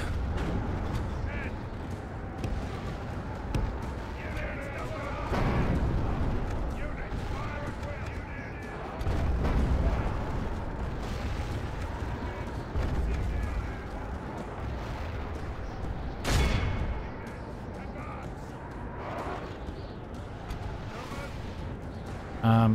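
Troops in a Battles of the English battle, the Battle of Hesse, keep up volleys of fire: heavy booms and cracking shots recur through a dense wash of battle noise, with a player talking over it throughout.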